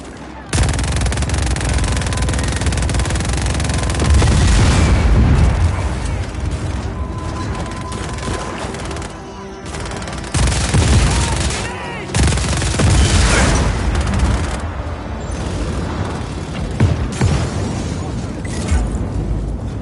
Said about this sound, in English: Let's blow up all this Espinosa shit!